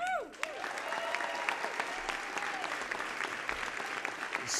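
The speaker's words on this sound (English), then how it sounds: "give one more big round of applause to Jill Scott" A large audience at a White House evening event breaks into sustained, dense applause that fills the room, steady and close, with a voice briefly audible at the start.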